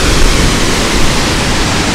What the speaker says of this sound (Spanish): esta cascada increíble